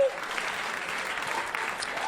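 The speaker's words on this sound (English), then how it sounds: "My poor mom, don't clap for that." Audience applause at Bobcat Goldthwait's stand-up set at Gotham Comedy Club, a dense wash of clapping that holds steady at moderate loudness for the whole stretch.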